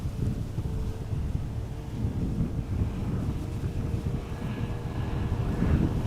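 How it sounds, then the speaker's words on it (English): A Swiss Airbus A220-100 airliner arriving at Schiphol Airport gives a steady low engine roar. Outdoor wind buffets the microphone throughout. "Bombardier C Series 100, A220 100. Swiss, arriving from Zurich"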